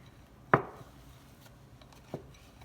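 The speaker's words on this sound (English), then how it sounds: "Put some flour on there with my flour spreader." A dough scraper taps and scrapes flour across bubbly pizza dough, giving two sharp, close knocks about a second and a half apart in an otherwise quiet room.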